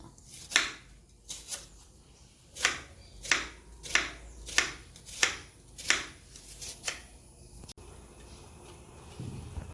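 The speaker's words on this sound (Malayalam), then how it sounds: "ഇഞ്ചിയും വെളുത്തുള്ളിയും ചതച്ചെടുക്കുക വേണ്ടു" Ginger and garlic are crushed for a cauliflower dish: about nine sharp, evenly spaced pounding strikes, close and distinct, then the pounding stops and only quiet handling follows.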